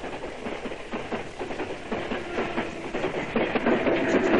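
A train rolls past with a steady rumble and rhythmic clickety-clack of wheels over rail joints, loud and close, growing slightly stronger toward the end.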